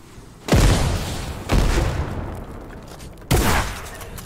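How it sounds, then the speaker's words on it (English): Three loud explosions in a Fortnite battle royale match, each a sharp booming blast that trails off slowly, with the first two about a second apart and the third following after a longer gap. "explosions."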